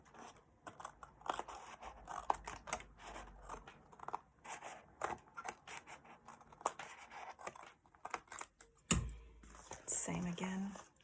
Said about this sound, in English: we're going to just trim off all of those ends